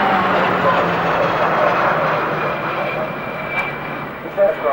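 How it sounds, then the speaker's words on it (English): A Boeing 707-derivative jet instrumented for air-to-air refueling trials flies past at the 1992 Farnborough Air Show, producing a loud, continuous broadband roar that eases slightly toward the end. "This is the last Boeing 707 derivative to be built"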